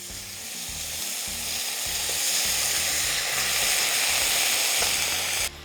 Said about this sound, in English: I'm gonna deglaze this pan with some white wine